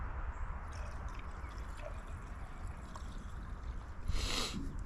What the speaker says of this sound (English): Just gonna fill this up with 40-to-1 True Fuel.